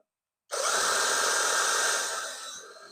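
A power drill bores holes for a homemade organic fertilizer (leachate) setup, starting abruptly after a half-second of silence and running loud and steady for about two seconds before easing off slightly.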